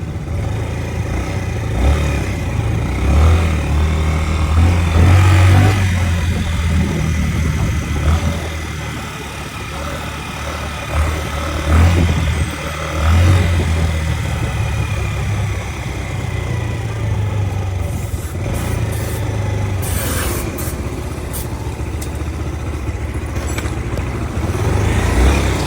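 A motorcycle engine runs continuously, with a low steady rumble and occasional rises in revs, loud and close throughout, with faint background noise.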